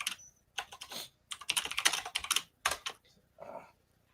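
A loud, clattery computer keyboard is typed on in rapid bursts of clicking keystrokes separated by brief pauses, close-up and with no talking.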